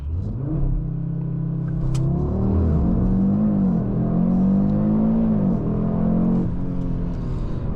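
An Audi RS 3 (8Y) launching hard from 0 to 100, its engine note rising steadily through the revs with brief dips at gear changes, loud and close from inside the car.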